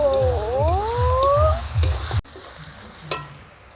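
Garlic paste for mutton curry sizzles and spits in a hot pan as a utensil stirs it in rhythmic scraping strokes. A brief whining tone rises at the start, then the frying drops to a quieter crackle.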